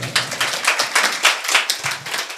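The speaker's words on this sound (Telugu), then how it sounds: "చప్పట్లు కొడతారా?" A church congregation claps hands together during a Sunday service, a dense, fast burst of many overlapping claps with no voices over it.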